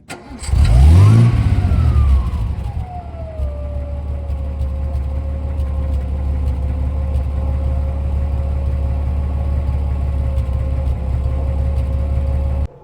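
Engine of a 1950s Wolseley 6/99 classic car heard from outside, starting with a loud burst and quick rev before settling into a steady, even idle that holds close and prominent to the end.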